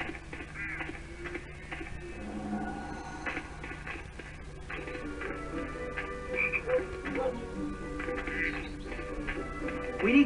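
A chocolate frog croaking in the Harry Potter and the Chamber of Secrets PS2 game, repeated rhythmic croaks over a busy backdrop of game ambience and small ticking effects, with no talking.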